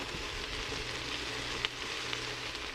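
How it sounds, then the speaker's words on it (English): Fresh spinach wilts with herbs in a hot pan while being stirred, giving a steady, even sizzle at moderate level, with a couple of faint spoon clicks against the pan and no voices. "The spinach is wilting, and I'm stirring it to incorporate all the herbs."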